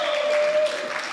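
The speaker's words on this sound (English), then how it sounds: "Round of applause for Omar." An audience applauds for someone named Omar at a team gathering, a brief burst of clapping that is fairly close and steady.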